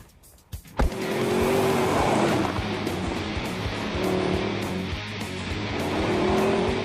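A 2011 Mercedes-Benz SLS AMG with its 6.2-litre V8 starts with a sharp burst, then holds a loud, sustained engine roar. The pitch rises and falls steadily as it drives hard.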